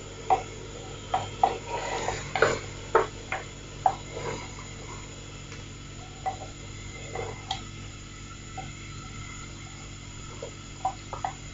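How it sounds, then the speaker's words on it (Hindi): Ground onions and spices fry in a pot of mutton kunna, a soft steady sizzle under scattered clicks and scrapes of stirring, close and fairly quiet with no talk. "अब इसमें थोड़ा सा इसको प्याज के साथ और भूनते हैं।"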